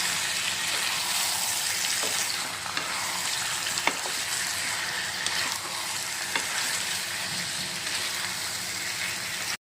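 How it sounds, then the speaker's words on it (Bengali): Chicken stirred in a pan with onions and whole spices, a steady loud sizzle of frying with scraping stir strokes and occasional clinks throughout, no voices. "আর এখন চিকেনটা ভালো মতো পেঁয়াজ আর যে গোটা মশলা ছিল তার সাথে মিলিয়ে নেওয়ার পালা।"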